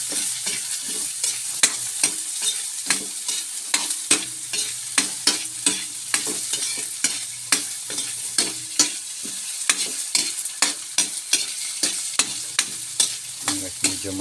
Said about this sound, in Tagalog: Ito guys, ilinagay ko na yung carrots.